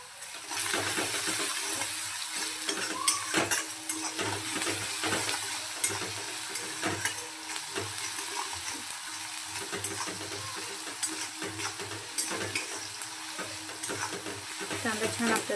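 Onion and okra frying in a pan while being stirred, a continuous close sizzle with repeated scraping and clattering strokes of the spoon throughout, no talk.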